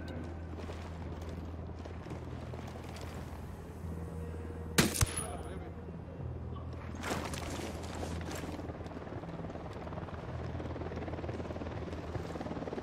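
A helicopter flies overhead in the video game Ghost Recon Wildlands, its steady rotor drone running throughout, with a sharp burst near the middle and faint gunfire-like bangs.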